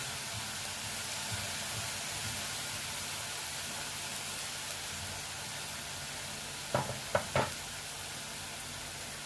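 Onion and garlic fry in a pan with spices for rajma curry, a soft, steady sizzling hiss, then a few quick stirring knocks near the end, no speech.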